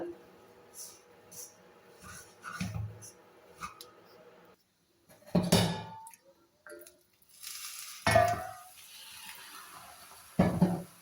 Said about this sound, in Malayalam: ഇതെൻ്റെ പാത്രം ചെറുതായതുകൊണ്ടാണ് ഇത്രയും ഇളക്കാൻ ബുദ്ധിമുട്ട്